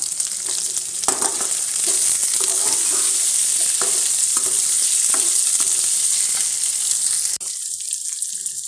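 Two handfuls of small shallots sautéing in a pan, a steady loud hiss of frying with intermittent stirring scrapes, ending abruptly in a quieter sizzle.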